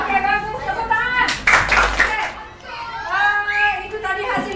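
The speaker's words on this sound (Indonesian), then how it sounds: "Oke, bagus, tepuk tangan." Hands clap briefly in a classroom full of children, a short burst of applause rising over busy chatter and kids' voices, with someone talking before and after.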